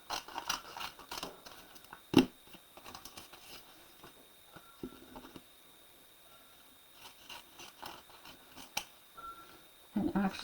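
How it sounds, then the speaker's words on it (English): Scissors snipping pink paper pieces for a journal craft, faint intermittent cuts and rustling with a few sharper snips, no talk. "So I'm going to cut out all of the pink and I'll split it between the two sides."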